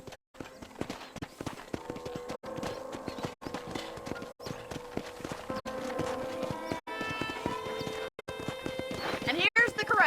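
Horse hooves clip-clop in a steady walking rhythm on a video game ranch, with a horse neighing near the end, over background music and speech.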